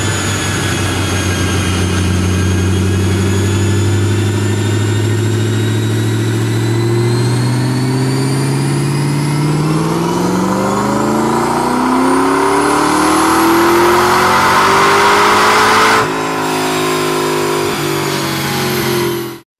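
A Ford GT engine on a dyno roars loud and close, pitch climbing steadily through a long rev, then dropping sharply near the end and holding high before cutting off.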